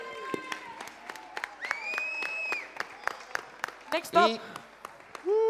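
Scattered claps from a crowd at a national urban music contest, sharp separate hand strikes mixed with whoops and cheering voices, loud and close.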